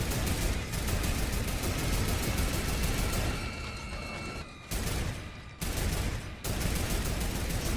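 Rapid automatic gunfire in a duo battle-royale video game, dense continuous volleys of loud shots filling most of the clip with brief gaps between bursts, no voices.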